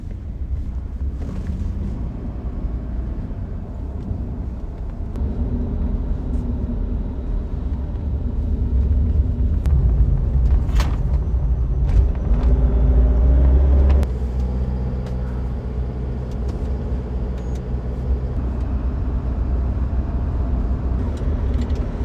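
Steady low road rumble inside the cabin of a moving Toyota Hilux Rogue pickup truck, with a constant drone and broadband tyre noise that swells slightly midway. No one speaks.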